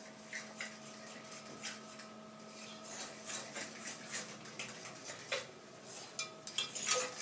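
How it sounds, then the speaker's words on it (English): A utensil stirring chocolate cupcake batter in a bowl, scraping and clinking steadily for several seconds at close range with a low hum behind it. "So we'll go ahead and mix this all up."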